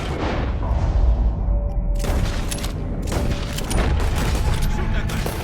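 Rapid gunfire from the Red Dead Redemption 2 video game during a swamp fight with an alligator, with repeated shots and booms packed close together over steady game ambience and no pauses.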